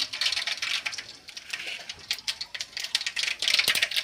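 Rapid, irregular crackling and popping of mustard seeds spluttering in hot oil, continuous and fairly close, with bursts of sharper pops.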